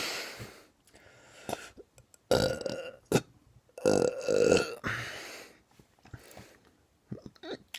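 Several loud, close burps come in separate bursts of varying length, with brief pauses and breathing between them.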